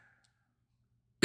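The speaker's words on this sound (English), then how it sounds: "I'm getting some coughing and stuff." A streamer with a cold lets out a single short, sharp cough close to the mic at the very end, after near silence.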